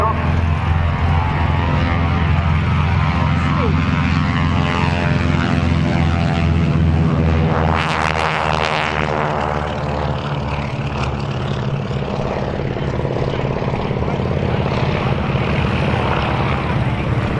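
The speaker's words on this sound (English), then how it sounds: "Here's the Royal Netherlands Air Force historic flight example of the Beech 18" A Beech 18 twin piston-propeller aircraft of the Royal Netherlands Air Force historic flight takes off at an RAF Cosford airshow, its engines droning loud and steady throughout, swelling into a rising roar with a sweeping pitch shift mid-pass.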